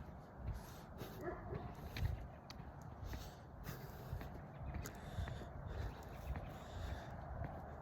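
Small dogs being walked past outdoors yip and whimper faintly at a distance, with footsteps and soft background noise and a brief quiet greeting mixed in.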